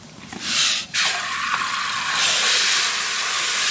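Water splashes into a pan of fried lentils, a sudden loud hiss that cuts off briefly, then settles into a long, steady steaming rush close by.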